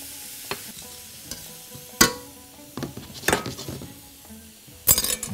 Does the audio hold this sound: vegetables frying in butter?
yes